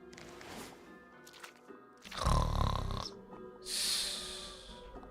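A voice imitates a sleeping duchess snoring loudly during a tabletop role-playing game: two heavy, rasping snore bursts close to the microphone, separated by a short quiet breath, with faint murmuring before them.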